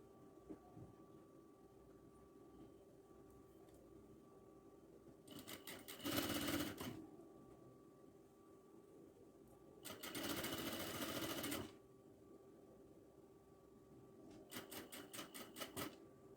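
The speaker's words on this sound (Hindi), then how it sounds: "अब इसकी स्टिचिंग करूंगी।" Sewing machine stitching a cotton kurti in three short bursts of rapid mechanical clatter, each a second or two, separated by quiet pauses with faint room hum.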